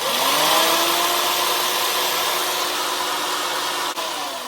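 An old Guild jigsaw mounted in a Lidl Parkside jigsaw table runs locked on with a loud, steady, high buzzing whine, close and continuous, dipping briefly near the end.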